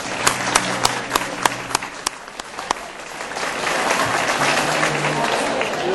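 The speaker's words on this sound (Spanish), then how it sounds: "ese fuerte aplauso para él, este fenómeno" A village concert audience in La Villa de Alía applauds percussionist Iván Carretero; a few sharp, separate claps open before the crowd swells into steady, dense clapping and cheering.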